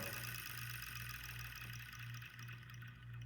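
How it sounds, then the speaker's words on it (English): A Weeden No.103 electric toy engine with new brushes spins down after its battery is disconnected, giving off a steady, close mechanical whir and hum with a faint rattle. "I'm going to disconnect the battery, and you can see the spin down"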